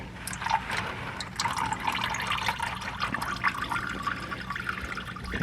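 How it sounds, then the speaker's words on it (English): Hot engine oil from a 2004-2008 Acura drains in a steady splashing, trickling stream into a plastic drain pan, continuous and close throughout. "Because the oil's hot, it doesn't take long to drain most of it out."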